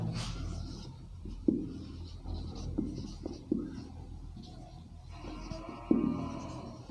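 Chalk or marker writing a chemistry term on a classroom board, soft scraping strokes with a few sharper taps, steady and close under a low room hum.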